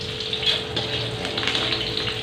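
Green onions and chilies fry in a pan with a steady, close sizzling hiss and a faint, constant hum underneath.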